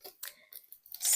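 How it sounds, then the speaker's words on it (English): Scissors cut paper for a junk mail envelope mini album, a few close, crisp snips followed by a louder sustained slicing rasp, with no talking. "So hopefully I can just cut that off a little bit"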